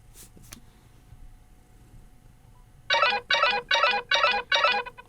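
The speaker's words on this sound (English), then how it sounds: "this is what's going to look like when you're getting a phone call." A brief blip, a moment of quiet, then a Nothing Phone 3 ringtone for an incoming call sounds in five short, evenly spaced bursts, loud and close.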